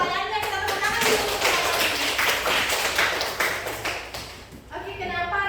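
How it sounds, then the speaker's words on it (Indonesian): Students clapping in a classroom, a short burst of scattered hand claps with distinct individual hits, fading toward the end as a voice speaks over and after it. "kita tepuk tangan dulu"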